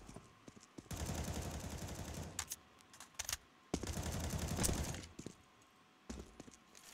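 UMP submachine gun fire in a Counter-Strike esports match, with several dense bursts of rapid shots separated by short pauses, loud and close over a low game ambience.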